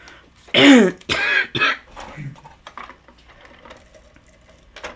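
Several harsh, close coughing and throat-clearing bursts come in quick succession, followed by quieter rustling and small sounds.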